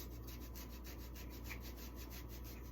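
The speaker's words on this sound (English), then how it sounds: "Use a little microplane to just get some really nice finely grated over that." Fresh unpeeled ginger grated on a small microplane, giving a steady, rhythmic rasping scrape with quick repeated strokes, close and fairly quiet, with no talk.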